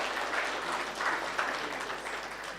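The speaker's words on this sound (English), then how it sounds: "let's have a round of applause for Mr. Mishra" Audience applause at an annual convention hall, a steady wash of many hands clapping for a few seconds with no voices on top.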